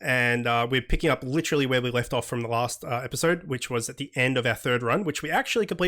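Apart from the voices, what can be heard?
None of the usual background noises is heard.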